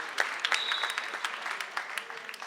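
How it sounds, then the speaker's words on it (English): Crowd in a high school boys basketball gym applauds as a player gets back up after a hard fall, scattered claps fairly distant and moderate in level. "a round of applause for him as he rises back to his feet"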